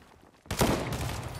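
Gunfire in the video game Fortnite, a sudden loud burst after a quiet start that sustains as rapid shots for about a second.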